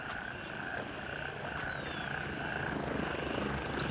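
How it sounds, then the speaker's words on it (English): A helicopter approaches in the military shooter game Gray Zone Warfare, a steady, fairly quiet rotor drone that holds throughout without talk. "As the chopper's coming in, look in this puddle here."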